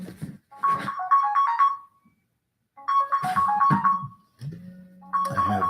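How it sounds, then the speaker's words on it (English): A mobile phone ringtone sounds in loud, close melodic bursts separated by short gaps, with a steady low tone and some muffled noise mixed in between the phrases. "I have a phone ringing"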